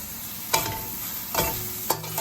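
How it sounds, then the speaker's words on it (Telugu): Fenugreek leaves frying in a pan, a soft continuous sizzle under three distinct stirring scrapes and knocks from a spoon against the pan, heard close up without voices. "మెంతాకు 1 నిమిషం పాటు ఫ్రై చేసుకోవాలి."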